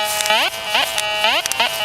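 Short rising electronic zips from an MX Sport metal detector in relic mode sweep upward twice, each a quick swooping tone close and fairly loud, signalling a target near the surface.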